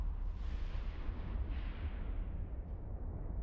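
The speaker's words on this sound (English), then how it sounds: "Those always make the most beautiful explosions." Rumbling space-battle explosions from the game EVE Online, a Tengu ship at a besieged covert research facility; a loud, continuous low boom swells and trails off over a few seconds with no talk.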